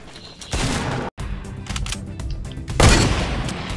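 Gunfire rings out in the video game Fortnite as a burst of rapid shots sounds, with a brief gap before the volleys resume. A louder cluster of blasts comes near the end.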